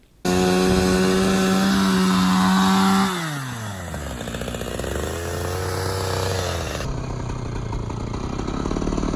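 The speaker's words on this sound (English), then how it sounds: "use the shaving motion of a chainsaw to get the angles the same" A chainsaw revs loudly, then drops in pitch as it bites and shaves through wood, trimming angles on arch pieces, with a steady, grinding drone.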